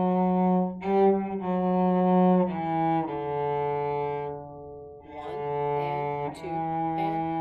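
Solo cello plays a syncopation exercise, number 87 in a study book, bowing sustained low notes with accented off-beat changes; clear, close and alone with no talk.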